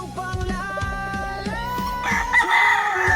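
A Boston Black gamefowl rooster crows loudly and close by, one full cock-a-doodle-doo over low clucking and bird noise, with no talking.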